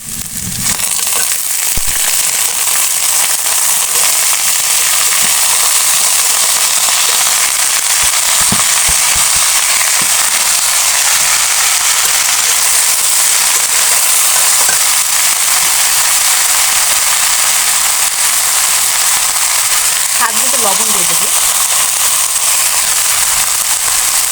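Onion, garlic and green chili frying in a pan, a steady dense sizzle that runs loud and even throughout, with a few faint clinks of utensils near the end.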